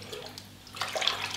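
Tap water splashes and trickles as it is poured into a shrimp aquarium, a soft, close pouring that builds louder after a quiet start.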